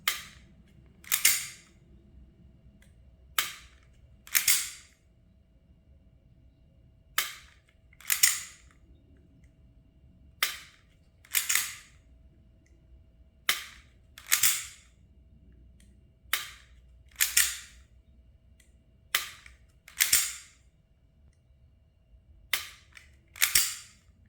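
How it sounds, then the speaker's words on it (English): Dry-fire trigger pulls on a pistol fitted with a Mantis X10 Elite trainer: a series of crisp, sharp mechanical clicks, often in close pairs, spaced a second or two apart with near silence between them. "So now we're going to take our time and just slowly pull the trigger"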